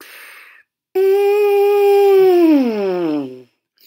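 A single lip buzz through a brass mouthpiece starts high and held, then slides down to a low pitch before cutting off, with brief faint noise beforehand.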